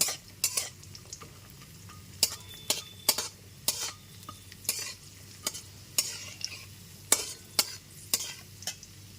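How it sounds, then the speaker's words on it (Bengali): Cashews, almonds and raisins fry in a pan as a spatula scrapes and taps in a steady rhythm, roughly two sharp strokes a second, over a faint low sizzle with no voices. "এর মধ্যে দিয়ে দিচ্ছি এক মুঠো কিশমিশ কিশমিশটাও হালকা করে ভেজে নেব"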